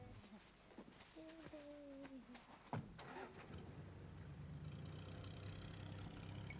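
Car engine cranking and catching near the three-second mark, then settling into a steady low running hum, with birds chirping and a brief voice early on.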